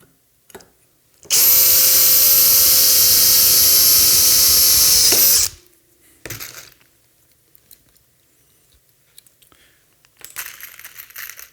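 A power drill bores the last rivet hole through the back support piece. It gives one loud, steady whine lasting about four seconds, followed by faint handling clicks and rustles.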